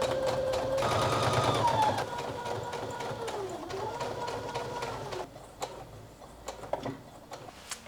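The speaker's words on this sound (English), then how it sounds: "I'm just going to top stitch along this line here." A sewing machine top stitches along the fly line of a garment, running in close, fast, even bursts with rhythmic needle ticking that slows and stops partway, followed by quieter handling clicks.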